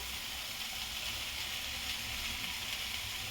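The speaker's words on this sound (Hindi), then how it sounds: "मटर को भी मैं अच्छी तरह भून लेती हूँ।" Peas fry in spiced ghee with a steady, even sizzle and hiss throughout, close and moderately loud with no talk.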